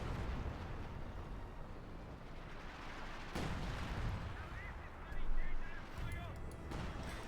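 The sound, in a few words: artillery fire in Company of Heroes 2 video game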